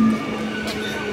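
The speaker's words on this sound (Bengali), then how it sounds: "চলো বাউরিয়াতে গাইস, ট্রেনটা পেয়ে গেছি" A train at a local station near Uluberia gives a short, steady rumble with a sustained mechanical hum, close and fairly loud.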